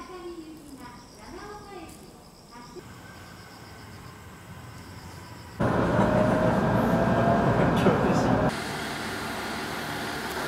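A train on the Joetsu Line in Niigata, Japan, rumbles along the rails, growing louder for a few seconds in the middle before easing to a steady hum; a voice speaks early on.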